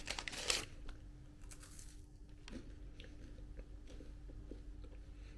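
Close, quiet crunching bites into a caramel wafer biscuit, followed by soft chewing and faint crinkles of a wrapper, all set against a low room hum.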